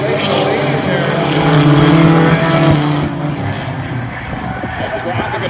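Race cars roar around Oyster Bed Speedway in a loud, sustained engine drone that drops off sharply partway through, leaving a lower rumble beneath a commentator's voice.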